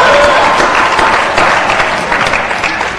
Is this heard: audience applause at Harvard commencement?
yes